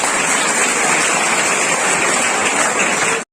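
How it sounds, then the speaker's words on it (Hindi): A school ceremony crowd delivers sustained, loud applause to welcome a speaker, an unbroken, even wash of many clapping hands that cuts off sharply at the end. "तालियों से स्वागत करें"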